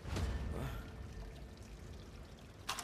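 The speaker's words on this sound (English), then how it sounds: "There's actual water sounds in this map." Water in a Zero Caliber VR game map pours and trickles softly, a faint continuous stream with a brief brighter splash near the end, heard alone without voices.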